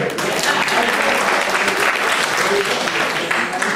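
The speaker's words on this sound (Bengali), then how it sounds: "একটু হাততালি দেব।" An audience at a Udichi discussion event in New York applauds, with dense, continuous clapping at steady loudness throughout, under some voices.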